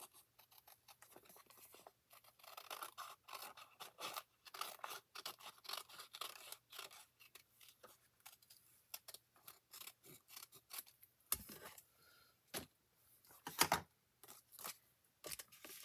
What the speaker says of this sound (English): I'll go ahead and take my paper snips